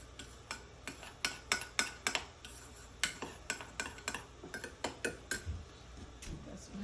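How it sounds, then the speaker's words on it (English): A spoon stirs sugar into coffee in a cup, with a quick series of bright metallic clinks and taps against the sides, close and clear, in irregular bursts. "stir those up."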